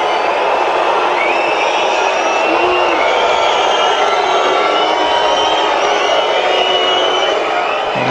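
A packed tennis stadium crowd roars and cheers after Sharapova serves her first ace, a loud, sustained wall of voices and whoops lasting the whole stretch.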